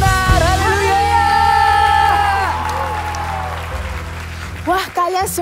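A worship congregation at an Indonesian praise-and-worship service claps and cheers. Steady broadband applause sits under prominent sustained singing or chanting voices, ending in a few brief shouts.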